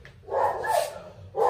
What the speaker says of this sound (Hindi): जैकी पीछे भौंक रहे